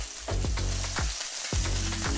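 Cod fillet frying skin side down in a hot pan, a steady close sizzle with faint stirring or scraping sounds, no voices.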